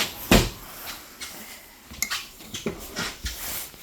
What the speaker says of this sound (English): Heavy duty hidden hinges, magnet latches.